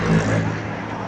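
A car goes by on a roadside where barbecue is being cooked, a short, close swell of low engine and tyre rumble lasting about a second.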